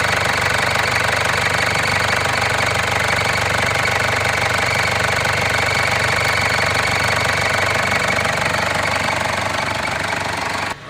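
A Ford Endeavour diesel engine cranking without starting, a fault traced to high return flow through one injector: a loud, continuous, rapidly churning starter-and-engine drone that holds steady for about eleven seconds, then cuts off abruptly.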